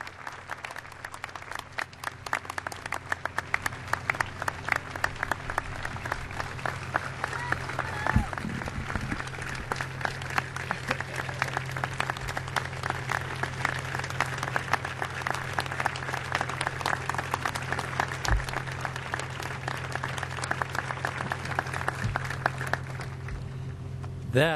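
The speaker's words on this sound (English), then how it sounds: "give yourselves a great big ovation" Audience applause and ovation at a NASA Kennedy Space Center Visitor Complex ceremony honoring astronauts, sustained dense clapping from a large crowd that holds steady for over twenty seconds, close and full, with a faint hum beneath.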